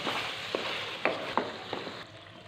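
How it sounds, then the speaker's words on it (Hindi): Beef karahi with black pepper and whole garam masala frying in a wok, a short steady sizzle broken by four or five distinct stirring scrapes, close and without talk. "मज़ीद इसको 2 से 3 मिनट के लिए फ्राई कर देंगे।"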